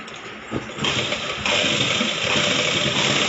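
Sewing machine stitching a plain blouse, a steady continuous mechanical whir that grows louder after the first second and runs on without pause.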